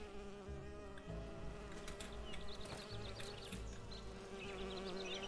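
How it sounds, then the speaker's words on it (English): Bees in Enderal buzz steadily and faintly, a dense overlapping drone of many insects around a hive, layered whining tones with small fluctuations and no voices. "Okay, there's a lot of buzzing."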